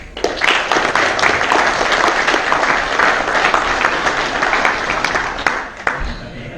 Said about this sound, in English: So everyone welcome with a round of applause